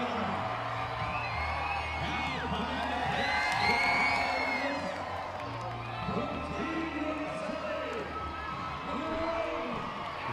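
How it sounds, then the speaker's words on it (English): Crowd cheering and whooping at a Firefighters versus Party Animals headliner baseball game in Norfolk, a sustained ovation of mixed shouts swelling around the middle and holding steady throughout. "Listen to the ovation here for Ashton."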